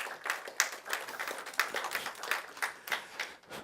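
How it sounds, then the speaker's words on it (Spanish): A church congregation claps for the Lord during a sermon, producing a brisk, uneven patter of many hands at moderate loudness with no talking over it. "Dale un aplauso al Señor fuerte."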